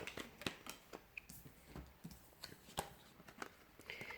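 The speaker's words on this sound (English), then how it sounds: "So we'll give the cards a shuffle and see what's coming up." Tarot cards being shuffled by hand, a quiet run of soft papery flicks and taps in an irregular rhythm, close by with no talking.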